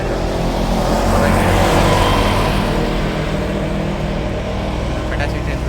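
A road vehicle passes near a signal and pedestrian crossing, a loud broadband engine and tyre rumble that swells and holds through most of the moment, with steady traffic noise underneath.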